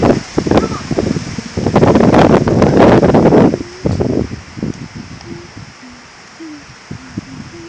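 Strong outdoor wind gusts buffet the microphone in loud rushing bursts that ease into lighter intermittent gusts, with birds chirping faintly and a few voices in the background.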